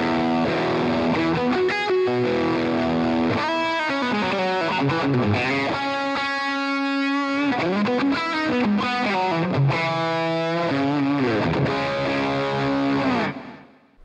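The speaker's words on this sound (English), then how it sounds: "Patch number 5 is my drive tone with the fuzz." Distorted electric guitar played through an Axe FX 3 modeller on a drive tone with fuzz, loud and continuous, with ringing chords and bending lead notes throughout before fading out at the end, no voices.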